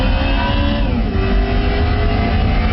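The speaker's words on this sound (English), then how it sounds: "Third gear, it's accelerating so nicely." A BMW M3 E92 in Gran Turismo 5 Prologue accelerates hard, its engine a loud, continuous rising roar with steady harmonic tone and no voices over it.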